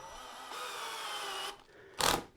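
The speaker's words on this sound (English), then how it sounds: "I can drill those hanger bolts in there" A power drill drives a hanger bolt into wood during a bench clamp build, a steady motor whine lasting over a second, then stopping, followed by a short, loud burst of grinding or rubbing.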